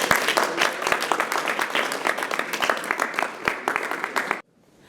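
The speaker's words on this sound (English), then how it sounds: "Can we give him a round of applause?" A room of people gives a round of applause for a guest being introduced at a mastermind interview event, dense steady clapping that carries for over four seconds and then stops abruptly.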